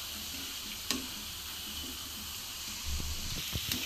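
Onion pakoda made with gram flour and rice flour bubbling in hot oil, a quiet, steady frying hiss with a few faint pops and light clinks toward the end.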